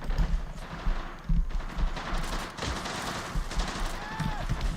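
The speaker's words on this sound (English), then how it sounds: "Target is effectively suppressed by like 7 different guns." Scattered gunfire from several weapons at once in the Men of War strategy game, moderately distant and continuous, crackling under game noise with faint voices.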